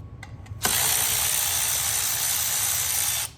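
A ratchet or power tool loosens large bolts, the oil and coolant feed fittings, on a used Audi 2.0T engine pulled from a junkyard: a few brief clicks, then a loud, steady mechanical whir running close for nearly three seconds.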